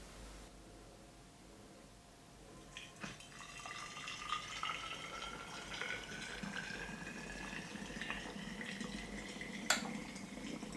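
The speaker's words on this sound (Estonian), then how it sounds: "Selleks täidame pudeli keeva veega." Boiling water is poured into a bottle, a liquid stream starting after a quiet moment and rising in pitch as the bottle fills, with light glassy clinks along the way.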